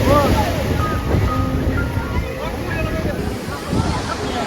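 Rough sea at high tide on Digha beach sends loud waves crashing and rumbling close by. Wind buffets the microphone and faint crowd murmur sits underneath.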